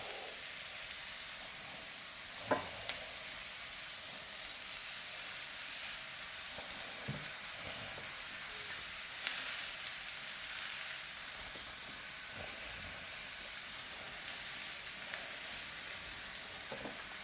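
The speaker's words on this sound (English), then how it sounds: "Let that fry." Lamb chops frying in a pan give a constant soft sizzle and hiss with occasional small pops and crackles, steady and moderately quiet throughout, with no talking.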